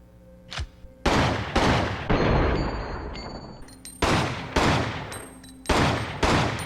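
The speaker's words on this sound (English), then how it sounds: "let's test the 45 auto out" Loud, close gunshots from the 45 Auto handgun in Resident Evil Outbreak File 2, fired in a spaced series of heavy booming reports with small electronic tones between shots.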